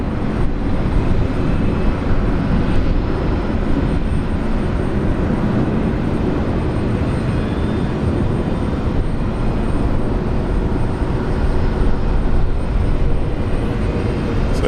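An EVA Air airliner landing at Brisbane International Airport at sunset, heard as a loud, steady broadband jet engine roar that persists for the whole stretch with no talk over it.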